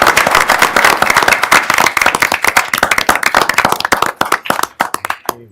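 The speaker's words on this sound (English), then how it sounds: "just big round of applause for your gift" A room full of people clapping at a city council meeting in Pocatello, loud, brisk and dense at first, then thinning into scattered individual claps as it dies away.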